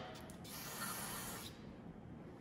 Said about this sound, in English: So I'm gonna spray it down.